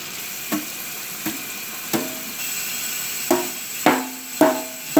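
Wet aquarium filter sponge being tapped and rubbed out during planted tank maintenance, giving a series of about seven sharp taps with soft squelching rubs between, close and fairly quiet, growing louder toward the end.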